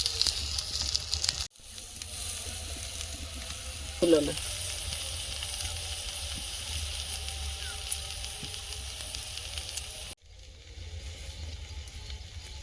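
Lote fish wrapped in bottle gourd leaves steams on a stove, giving a faint continuous hiss and sizzle with a brief clatter near the middle and a sharp cut in the steady noise near the end.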